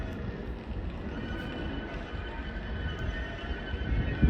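A Class 197 train pulls into Stockport station bound for Manchester Piccadilly: a steady low rumble and broadband rolling noise that grows slightly louder toward the end, with no voices.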